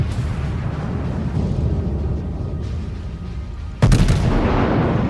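Battleship cannons firing in a naval warfare video game, a deep rumbling barrage that swells under steady low engine drone, then a sudden loud blast near the end.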